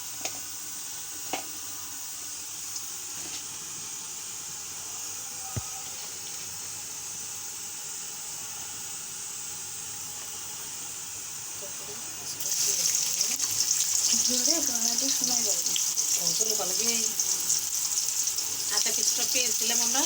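Chopped onion added to whole cumin in hot soybean oil for an eggplant dish: a faint background hiss gives way to a sudden, loud, sustained sizzle, with a voice speaking nearby.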